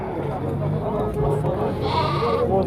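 Sheep bleat at a busy livestock market, scattered calls rising over a steady din of crowd noise and voices of people talking nearby.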